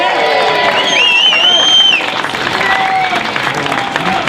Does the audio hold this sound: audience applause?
yes